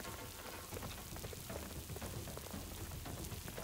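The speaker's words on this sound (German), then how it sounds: "Das klingt so nach Regen, aber hier regnet es gar nicht." Constant rain-like hiss in the game Last Knight, a dense, even patter with no pauses, filling the whole short stretch without any talk.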